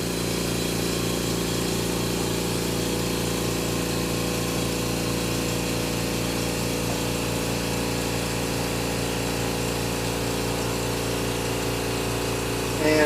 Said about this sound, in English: fire up the air compressor here so you can listen to that horrible